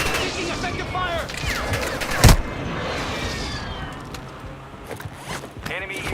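Video game gunfire in a Call of Duty-style shooter: near-constant crackling bursts with one sharp loud blast midway, under the game's background chatter and a live-streamer's setting.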